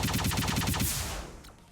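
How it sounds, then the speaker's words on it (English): A missile lock-on effect from the shmup video game Spacefighter Rukia 2: a quick run of about eight rapid, evenly spaced electronic pulses, then a brighter sweeping tone that fades out. "It's the sound of locking on missiles,"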